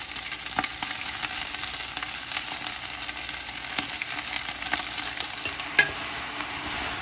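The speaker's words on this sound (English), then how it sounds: "Now we'll start adding in the shrimp shells." Shrimp shells go into a hot stockpot and get stirred, making a continuous bright sizzle with soft scraping and a few clinks, one louder knock near the end, and no talking.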